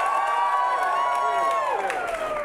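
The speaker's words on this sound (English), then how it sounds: "let's start that round of applause." Theater audience at an improv comedy show cheering and whooping with applause, a loud continuous crowd roar with bright voiced shouts over it.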